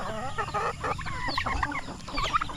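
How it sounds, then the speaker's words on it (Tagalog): A flock of mixed-breed farm chickens, among them Rhode Island Red, Black Australorp, native Huluhano and Shamo-blood birds, cluck busily nearby in a string of quick, overlapping calls. "Yan yung mga breed ng manok natin dito, gahalo-halo."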